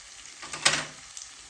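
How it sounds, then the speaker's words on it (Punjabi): Finely chopped onions hit hot oil with ginger and garlic in a pan over medium heat, giving a sharp burst of sizzling that quickly settles into a softer crackle with a brief stir. "ਇਸ ਵਿੱਚ ਦੋ ਬਰੀਕ ਕੱਟੇ ਹੋਏ ਪਿਆਜ਼"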